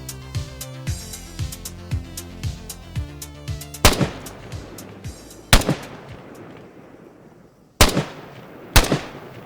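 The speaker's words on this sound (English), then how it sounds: "The PSG-1 is a late Cold War era sniper rifle of German origin." PSG-1 sniper rifle firing in a video game, a series of sharp, loud single gunshots spaced irregularly, each with a ringing tail and echo, over quiet music-like tones early on.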